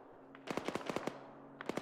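A burst of machine gun fire from an enemy bunker in a military shooter game: a rapid string of sharp shots, a pause, then another short burst, moderately distant, with no talking.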